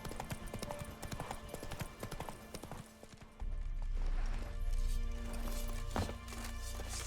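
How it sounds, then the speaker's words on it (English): Hooves clop rapidly as a horse gallops in The Witcher 3, a quick rhythmic beat that gives way to a louder rumbling run, with a faint whinny near the end. "Run, Roach"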